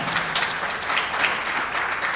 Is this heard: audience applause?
yes